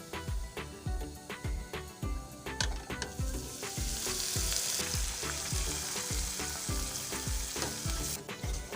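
Ginger garlic paste with green onion leaves fries in a pan, a loud continuous sizzle under a steady rhythm of spoon knocks and scrapes while stirring.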